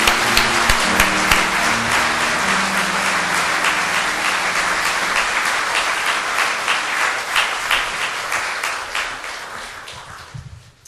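Warm, sustained applause from a church congregation honoring a retiring pastor and his wife at a worship service, dense and steady for about ten seconds before thinning out at the end.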